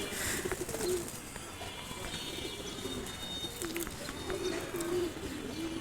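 Low, soft coos from a large Putul pigeon repeat several times over a dense bed of chirping birds and background noise, the cooing fairly close.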